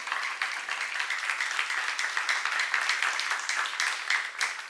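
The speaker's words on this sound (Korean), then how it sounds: "지금 박수 나지" Steady applause rises from a church congregation during a sermon, a fairly distant, even wash of many hands clapping with no talk over it.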